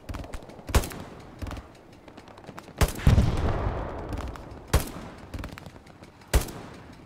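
A tank fires its main gun in Hell Let Loose, a WWII shooter, amid a battlefield of repeated sharp gunshot cracks spaced every second or two, one heavier blast with a lingering rumble, moderately loud and without talking.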